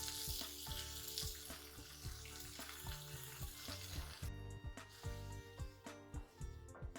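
Tomatoes and sambar powder fry in hot oil in a home kitchen pan, a steady close sizzle broken by regular stirring scrapes, with no voices.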